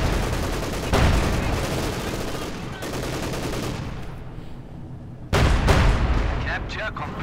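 Battle din from the strategy game Company of Heroes 2 in a 1v1 match, conscript infantry firing on a veteran Panzer IV: dense continuous gunfire and rumbling explosions, loud throughout, likely with a commentator speaking over it.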